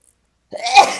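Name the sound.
sneeze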